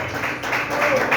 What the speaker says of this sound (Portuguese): Todos podem se assentar e exaltar o Senhor Jesus com as palmas bem alegres.